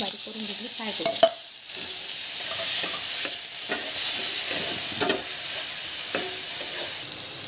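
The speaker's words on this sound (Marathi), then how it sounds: "आता याच्यात तेल, मोहरी, थोडे जिरे आणि हिरवी मिरची आपण जी मिक्सरमधून बारीक करून घेतली फ्राय करूया" Ground green chilli paste frying in hot oil with mustard seeds and cumin, a steady loud sizzle and hiss close by, broken by scraping stirs of a spoon in the pan; no one speaks.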